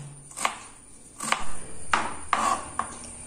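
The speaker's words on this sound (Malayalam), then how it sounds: "അപ്പൊ ഇത് നമുക്കൊന്ന് കുഞ്ഞായിട്ട് ഒന്ന് അരിഞ്ഞെടുക്കാം." A knife chops kanthari chillies finely on a board, giving about six crisp, close knocks at an uneven pace with quiet pauses between them.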